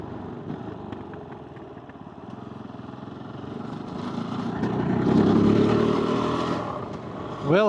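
A Kove 450 Rally adventure motorcycle being ridden on an asphalt road, its single-cylinder engine buzzing steadily and then swelling louder as it picks up speed before easing off, recorded close with wind noise and some talking.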